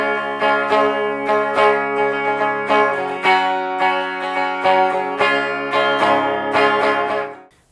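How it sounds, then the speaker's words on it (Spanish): Clean electric guitar played through an amplifier, a run of distinct picked notes and chords ringing clearly with no voices, then fading out at the end. "Ok, este es el sonido limpio."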